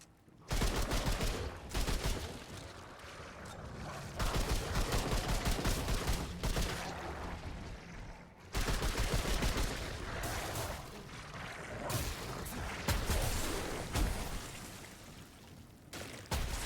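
Rifle gunfire in the video game Remnant 2, loud bursts of rapid shots in repeated volleys with short pauses between them, dense and close, with no voices over it.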